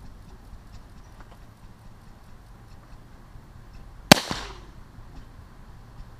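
A rifle fires a wooden round ball over a 25-grain powder load outdoors, giving one sharp, loud crack followed by a brief decaying echo, with quiet ambient background before and after.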